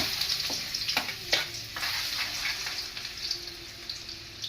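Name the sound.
garlic and onion sautéing in a pan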